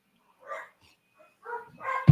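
A pet dog barking indoors at someone arriving home, a few short muffled yips and barks spaced apart, ending in a sharp louder bark close by.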